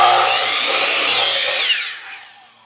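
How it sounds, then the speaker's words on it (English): A miter saw slices through red oak hardwood with a loud, close, high-pitched whine that swells during the cut, then winds down and fades as the blade spins to a stop. "so on this saw, let's see how the red oak cuts"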